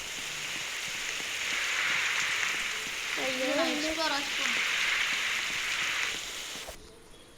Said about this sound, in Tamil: அம்மே மழை பெய்யுது.